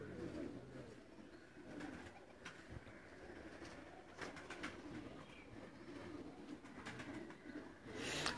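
Pigeons coo softly in a group, with low repeated calls and flutters over faint background noise, fairly quiet and without clear talk.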